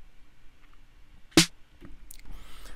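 A dry snare drum hit in a drum mix with no reverb, one sharp, loud crack with a quick decay, followed by a couple of softer faint hits and low background sounds.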